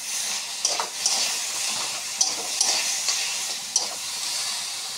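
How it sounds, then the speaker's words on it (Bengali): Whole spices, including dried fenugreek leaves, cardamom and cinnamon, fry in a pan for a crab curry. A soft continuous hiss carries several brief clicks and scrapes from stirring. "মশলাগুলো সব ভাজা হয়ে আসছে"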